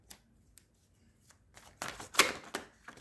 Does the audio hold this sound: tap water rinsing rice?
no